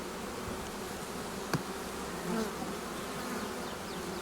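Honey bees at a Lemko apiery hive in Zdynia, Poland, hum in a steady, soft, continuous drone close to the open frames, with a brief click partway through and no one speaking.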